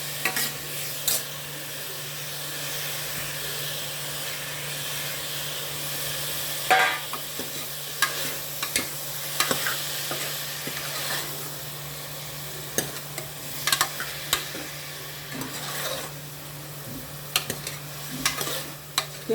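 Chopped big and small onions with tomatoes sautéing in a pan for country chicken gravy: a continuous sizzle with a low steady hum, broken by repeated scraping and stirring clatters, no talking.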